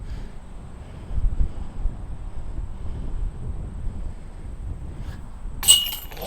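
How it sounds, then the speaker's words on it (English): Steady outdoor wind buffeting the microphone as a low rumbling roar on a gusty day, with a brief clinking clatter near the end. "It's genuinely windy as shit right now."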